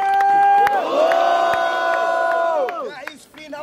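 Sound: crowd cheering at a rap battle

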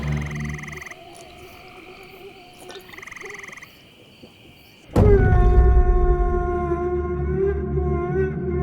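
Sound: frogs croaking at night

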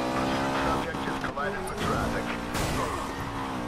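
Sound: car crashing repeatedly in video game Need for Speed Payback

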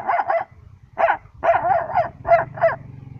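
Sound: voice imitating a dog barking

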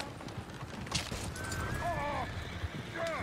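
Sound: horses in video game Red Dead Redemption 2

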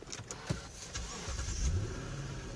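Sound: car engine starting

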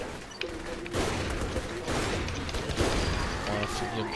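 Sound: sniper rifle gunfire in video game Saints Row The Third

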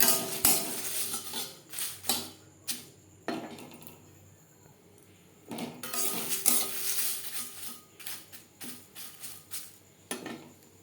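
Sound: bay leaves frying in a hot wok

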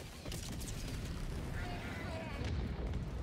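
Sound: hell bomb explosion in Helldivers 2 video game

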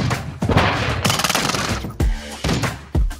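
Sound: gunfire in video game Call of Duty Modern Warfare 2

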